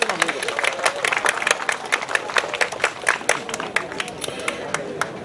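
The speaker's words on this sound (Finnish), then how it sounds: "eiköhän anneta koko Gospel Riders porukalle kunnon aplodit tässä aluksi." A crowd gives hearty applause to the Gospel Riders group at a gathering in Finland. The crisp individual claps are close and continuous, blending into a lively, sustained ovation.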